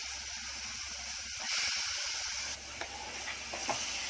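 Cluster beans going into a hot pan for a prawn dish, giving a steady, close sizzle that swells briefly as they land, followed by a few light stirring scrapes near the end; no voices.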